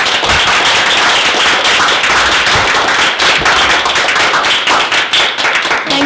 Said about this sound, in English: Well, let's give them a clap.